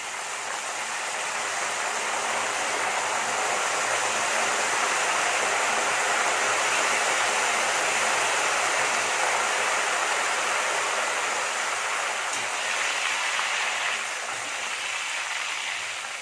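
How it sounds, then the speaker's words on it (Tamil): Raw jackfruit chips frying in hot oil as salt water is sprinkled in, giving a dense, steady, loud hissing sizzle that fills the whole stretch with no voices. "ஃபஸ்ட்டு ஊற்றும் போது அப்படி தான் சலசலப்பாக இருக்கும் ஏன்னா தண்ணி இல்லைங்களா உப்பு தண்ணி"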